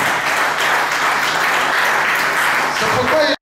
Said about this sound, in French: Acclamons le Seigneur mon Dieu.